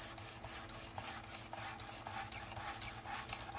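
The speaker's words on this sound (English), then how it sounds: "we're up to the 800 grit now. I'm just going to do a couple passes with it." A Camillus electrician's knife edge is drawn across an 800 grit sharpening stone in a steady series of about a dozen rhythmic raspy strokes, close and fairly quiet, with no talking.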